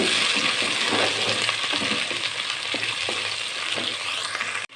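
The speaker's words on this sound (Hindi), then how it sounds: "प्याज को हमने गोल्डन ब्राउन करना है" Small onions frying in a pan for aloo biryani, a steady close sizzle with occasional stirring scrapes and clinks, continuous until an abrupt cut near the end.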